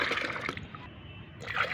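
Plain water poured into liquid plant fertilizer to dilute it, a steady splashing trickle of liquid that swells slightly at the start and end, close and fairly quiet, with no talking.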